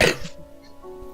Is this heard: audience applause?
no